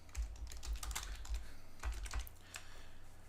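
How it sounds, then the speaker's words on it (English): Fingers type on a computer keyboard in quick, irregular bursts of close, crisp key clicks, pausing briefly mid-run before a few final taps, with no voices. "So let's go ahead and type out some text."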